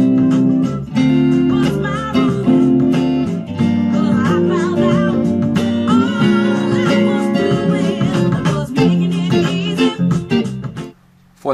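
Funk guitar plays the bridge of a song, a continuous run of clean rhythmic chords and sliding figures that stops abruptly near the end before a brief restart.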